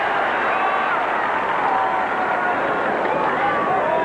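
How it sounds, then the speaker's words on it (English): A large tennis crowd at the 1981 US Open final fills the air with a steady, dense roar of hollering and babble, continuous and fairly loud throughout without clear breaks. "Sounded like they're hollering Borg,"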